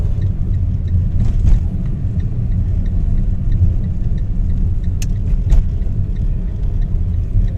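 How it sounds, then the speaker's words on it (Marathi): A car drives through a new tunnel on the Mumbai-Pune expressway, a loud continuous low rumble of engine and road noise inside the enclosed space, with a few faint passing hisses. "नवीन बोगद्यातनं गाडी चालली"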